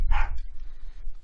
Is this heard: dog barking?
yes